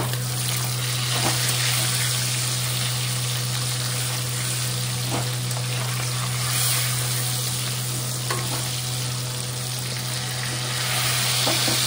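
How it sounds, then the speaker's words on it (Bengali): A hilsa fish-head curry with taro greens sizzles steadily in a pan as turmeric is stirred in. A constant close frying hiss carries light stirring scrapes throughout, with no voices. "হলুদ দিয়ে দিলাম, একটু নেড়ে নিচ্ছি"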